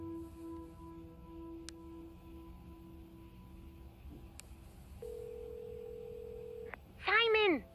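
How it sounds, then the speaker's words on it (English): A telephone in the cartoon Adventure Time: Fionna & Cake gives steady, sustained electronic tones with a few brief clicks, then a short, loud, warbling ring near the end. "Yep, the phone call."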